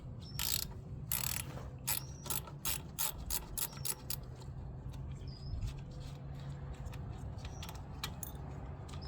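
Metallic ratcheting clicks from a wrench loosening a battery cable nut on a Wacker roller engine, a quick close run of sharp clicks that thins to quieter tinkering.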